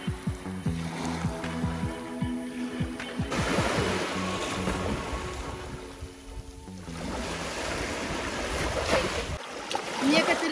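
Sea waves wash onto a wild, empty beach in Albania, with steady surf rolling in and swelling at intervals under gusting wind, close and fairly loud, with no speech.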